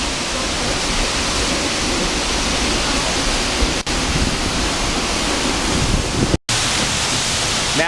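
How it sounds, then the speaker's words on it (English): Tall waterfall in a national park, heard from beside the falls: a continuous, dense rushing roar, close and even, broken only by two brief dropouts near the end. "Now I'm to the side of the waterfall."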